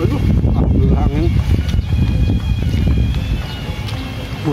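Strong wind buffets the microphone outdoors at a village meal, a loud, gusty rumble that rises and falls throughout while a person talks.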